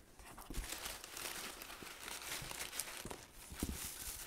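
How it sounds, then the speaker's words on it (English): Packing tape peeling and crinkling off a fan mail package, a steady close scratchy rustle with a few sharper tearing bursts, heard alone. "If you just make noises, the tape comes out way easier"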